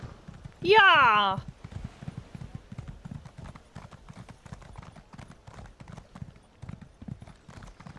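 A horse ridden in Elder Scrolls Online clip-clops at a steady pace throughout. A short, loud cry rises near the start, then the hoofbeats continue evenly.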